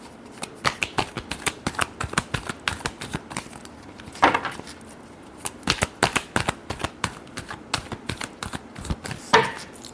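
Tarot cards are shuffled close by in a rapid series of crisp riffling snaps and flicks, irregular bursts repeating throughout with brief pauses, no voices over them.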